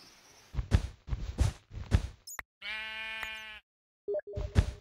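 Several bleats from sheep in the Minecraft video game, a pink sheep among them, come in short bursts with a drawn-out, buzzy tonal cry in the middle and brief pauses between.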